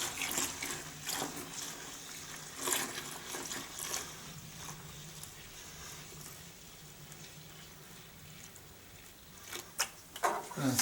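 Water runs into a home-brew fermenter as a maple imperial blonde ale batch is topped up to about 5.5 gallons, a steady pouring wash with a few louder splashes and clunks near the end.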